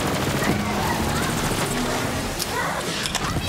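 Rapid automatic gunfire from the video game Borderlands 3 rattles on continuously and loudly, a dense fusillade of overlapping shots with occasional heavier bursts, with a voice talking over it at points.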